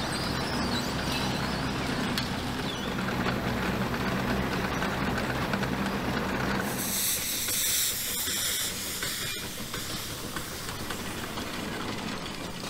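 Steam tractor engine hissing as the clutch engages to connect engine to wheels, a broad loud rushing hiss with low rumbling that shifts midway into a sharper, higher steam jet.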